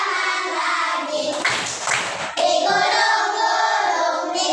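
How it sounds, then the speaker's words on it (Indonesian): Hands clap in a brief burst during a sung classroom clapping game, the claps cutting through a melodic voice and music that carry on before and after. "bertepuk tangan, buka tutup, tepuk tangan lagi"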